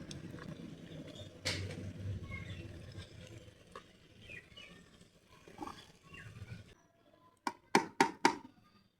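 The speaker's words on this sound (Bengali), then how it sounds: "কষানো হয়ে গেছে, এখন আমি কপিগুলো ছেড়ে দেব।" Chopped cabbage is dropped into a hot pan with chicken gizzard and liver, giving a broad sizzling rush that fades, followed near the end by a few sharp knocks of a utensil against the pan.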